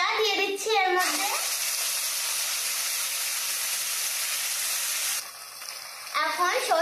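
Spice paste hits hot oil tempered with black cumin and dried chilli in a wok and bursts into a loud, steady sizzle that hisses on for several seconds, with brief voices at the start and end.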